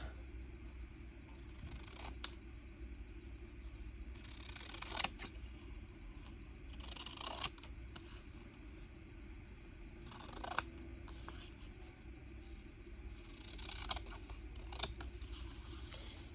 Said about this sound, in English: So I'm going to cut, same as I did before